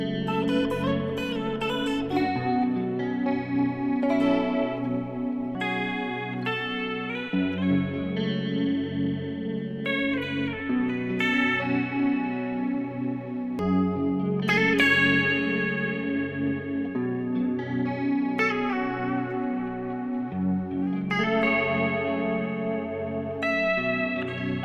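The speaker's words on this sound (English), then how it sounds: "This is why I love making beats with guitars. You just put a ton of reverb on there" A chill drill beat built from guitar drenched in heavy reverb, with plucked melodic notes ringing and blooming into washy tails over a sustained low bass line.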